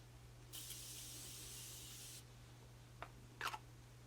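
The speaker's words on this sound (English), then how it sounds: "And then I take the Morphe Continuous Setting Spray" A single soft hiss of Morphe Continuous Setting Spray lasts under two seconds, then a couple of faint clicks follow in an otherwise quiet room.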